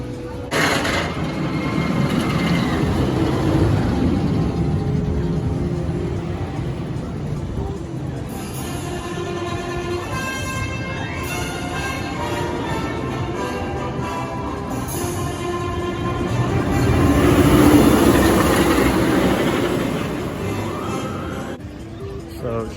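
The Steel Vengeance roller coaster at Cedar Point gives a steady, loud roar of wheels on track with wind rush, swelling near the end. Riders' voices and shouts mix in throughout.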